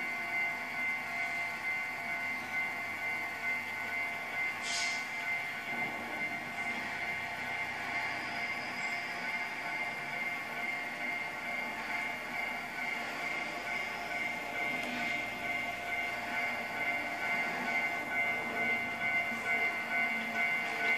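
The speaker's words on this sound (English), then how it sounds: "there are two trains going into the station right now." Simulated trains rolling into a station in the video game Trainz 2, near a Japanese level crossing, give a steady, continuous rail rumble with a faint hum throughout and no talking.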